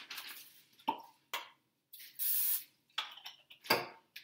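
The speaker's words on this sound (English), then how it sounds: "I'm gonna spray it first" Cooking spray hissing onto a pan sitting on a food scale, one steady close burst of about half a second among scattered handling clatter and small knocks, no talking.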